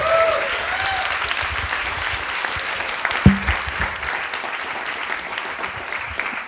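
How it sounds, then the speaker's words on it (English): Audience applauding a startup team after their pitch at an event, steady dense clapping throughout with a brief louder burst midway, no voices over it. "a lot of applause for this team"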